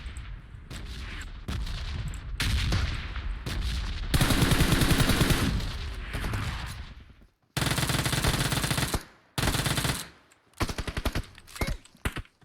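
Gunfire in the PUBG Mobile video game: bursts of rapid automatic fire, loud and close, come in several spaced volleys with short silent gaps, alongside scattered single shots and no voices.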